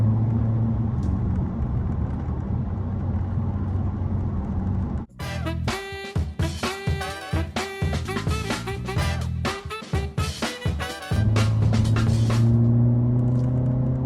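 A Hyundai Avante N on a race circuit surges along the final acceleration stretch, its engine note rising in pulses through gear changes, loud and close, with a steady in-cabin drone before and after.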